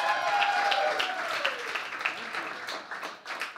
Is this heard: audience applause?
yes